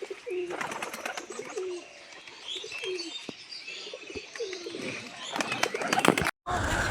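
Pigeons at a pigeon sale in Krishnanagar, West Bengal coo in short repeated phrases close by, with wing flutters and rustling and a voice talking over them.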